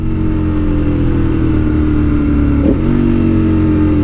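Motorcycle engine droning steadily while riding on the road, a loud continuous hum with a small swell in pitch near the end, no talking over it.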